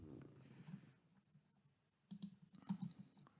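Faint, scattered clicks of typing on a computer keyboard, a few keystrokes at first and then a quick burst of taps near the end, in a quiet room.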